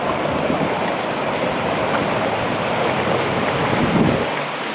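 Water rushes steadily down the East Race, a man-made city kayak course, a dense, continuous roar with no pauses and no voices.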